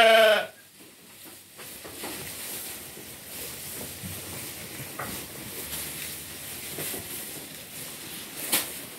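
Merino sheep on a farm in Kejajar, Wonosobo bleat in short, scattered calls over steady outdoor background noise, with one loud cry at the start and a few fainter ones nearby.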